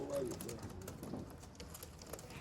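Lovatt tippler pigeon hens cooing close by, soft murmuring calls running through a steady low rumble of background noise.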